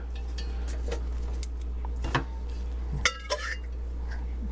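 Small metal hardware and rubber grommets from a stainless steel conical small-batch fermenter clink and rattle a few times as they are handled, with light sharp taps over a steady low hum.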